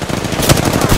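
Rapid automatic gunfire in a ranked shooter video game match, a loud continuous burst of close shots filling the whole moment.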